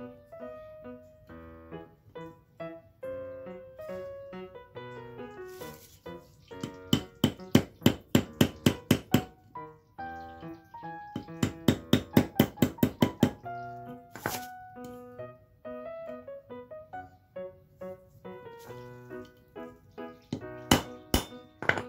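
A screwdriver taps a cross joint bearing cup into place on a 2006 Toyota Innova. Close metallic knocks come in two quick rapid bursts, with scattered single taps before and after.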